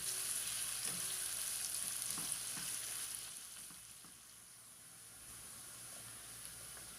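Chopped onions frying in hot oil in a pan for black chana pulao, a steady close sizzle and hiss that softens slightly partway through, with faint stirring scrapes and no talking.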